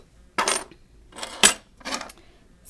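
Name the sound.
keys jangling as they are put in a drawer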